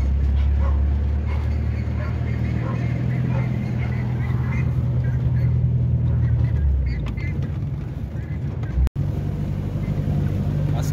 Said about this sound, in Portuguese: Olha o cachorro do homem aí.